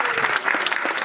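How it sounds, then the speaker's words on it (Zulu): An audience breaks into applause, a thick continuous patter of many hands clapping close and loud, with faint voices mixed in beneath. "Ngicela imishaye ihlombe lethu."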